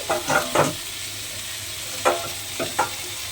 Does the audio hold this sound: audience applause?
no